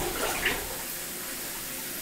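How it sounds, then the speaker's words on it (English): A shower head runs water in a continuous hissing rush that stays loud and steady for about two seconds, with a slight splash near the start and no talking. "And he got the shower head running."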